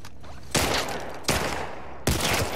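Gunfight in The Last of Us Part 2: three loud, sharp bursts of gunfire with a roomy echo tail, evenly spaced about three-quarters of a second apart, each hitting hard and then decaying into reverberant rumble.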